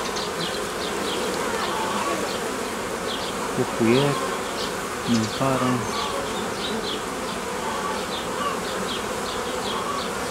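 Honey bees hum and buzz in a steady, dense swarm on a hive frame lifted from a hive during spring swarm-making, close and continuous, while someone talks quietly over it.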